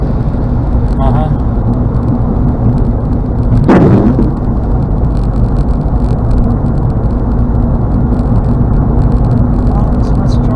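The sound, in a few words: heavy highway traffic on Florida's Turnpike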